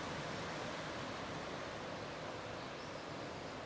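Steady broadband rush of warm wind on a seaside mountain, Tossal de la Cala, constant and fairly faint with no voices.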